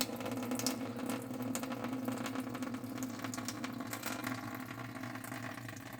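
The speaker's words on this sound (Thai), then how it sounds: "ตอนนี้ น้ำไหลออกจากช่องน้ำยาปรับผนุ่มแล้วนะครับ" Water running out of the fabric softener compartment of a Hitachi SF-170ZCV washing machine, a steady low trickling and gurgling flow with faint mechanical clicking underneath, continuous and moderately quiet.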